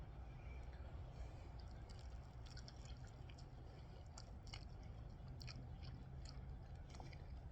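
Close, quiet chewing of spicy kimchi ramen with pickled hot peppers, soft wet crunches and slurpy clicks repeating over a steady low background hiss.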